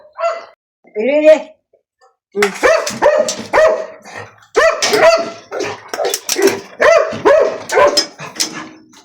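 Several dogs bark repeatedly and excitedly at close range in a garden, sharp overlapping barks and yelps coming in bursts with brief gaps between them.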